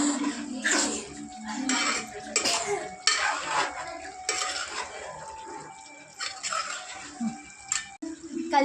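Chicken curry stirred in a pan with a spoon, a string of scraping, clinking strokes against the metal at a steady pace, close by, with faint talking now and then.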